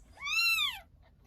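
A newborn kitten gives one short, high, clear meow that rises and falls. It is heard close up against a quiet background.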